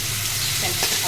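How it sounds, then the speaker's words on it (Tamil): Fennel seeds and curry leaves sizzle in hot oil with a steady, close frying hiss throughout, and a brief stirring scrape near the end. "இப்போ நம்ம சோம்பு போட்டுக்கலாம், கருவேப்பிலை 2 போட்டுக்கலாம்."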